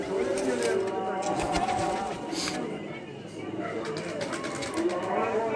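Pigeons coo in a loft: low, soft, repeated cooing close by, with rustling and a voice talking over it.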